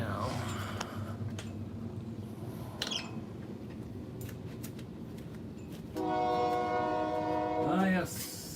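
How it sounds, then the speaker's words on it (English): A train passes at a distance with a low steady rumble, then a loud sustained horn blast sounds near the end, with faint birds in the background. "ah yes, the lovely train."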